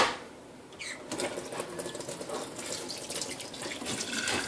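Filtered water pouring into a jar holding wheat berries, a soft, steady splashing stream that runs for a few seconds at low volume.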